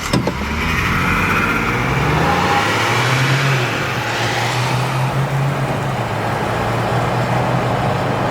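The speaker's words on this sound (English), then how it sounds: "Your tires sound so funny." A 2022 Ford Bronco drives along with a loud, steady roar of tire and road noise blended with a low engine hum, continuous and close from inside the cabin, and no talk.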